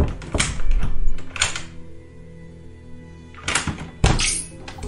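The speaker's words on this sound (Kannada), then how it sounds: "ಆ ಮೇನ್ ಡೋರ್ ಲಾಕ್ನ ತೆಗಿತಾಳೆ." The lock of a house's main door is worked open with a few heavy metallic clunks and clicks, two near the start and two more near the end, separated by a quiet pause.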